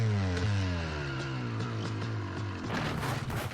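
A KTM 250 two-stroke motocross bike engine in a motocross video game revs hard, its buzzing pitch sliding and climbing continuously, loud and close with no talk.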